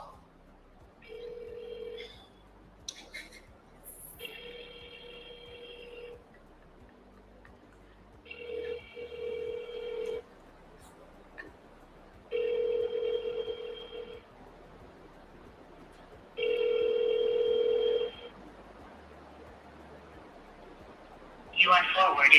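A phone call to a minister rings unanswered and is forwarded to voicemail: repeated ringback tones in evenly spaced bursts over a low background, ending with a short noise.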